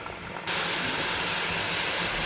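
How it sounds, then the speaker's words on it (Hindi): Chai poured into a very hot clay pot for tandoori chai, a sudden loud, sustained sizzling hiss that starts after a short moment of quieter noise and keeps going to the end. "चाय डालेंगे इसमें क्योंकि जो पॉट है हमारे बहुत ज़्यादा गर्म हो चुके हैं।"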